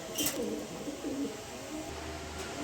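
A female racer pigeon gives a low cooing call, short and fairly faint, with a soft burst near the start and a quiet background hum afterward.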